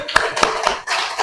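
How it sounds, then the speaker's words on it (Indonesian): A short burst of classroom applause for a student group in an Indonesian Islamic education lesson, a few distinct claps followed by a brief dip and then a renewed patter of hands. "Tepuk tangan untuk kelompok Alif."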